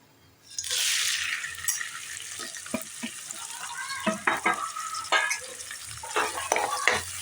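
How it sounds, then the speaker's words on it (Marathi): Onion hits hot oil with a sudden bright sizzle for a crab masala, then settles into a quieter fry punctuated by spoon scrapes and clinks against the pan. "आता याच्यामध्ये कांदा टाकून घेते मी"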